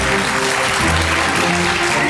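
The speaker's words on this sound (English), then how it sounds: "Listen to that crowd." A live crowd at a Clash of Clans war challenge event in Helsinki, Finland cheers and applauds loudly, a continuous roar of clapping with steady tonal hum and some low voices mixed beneath.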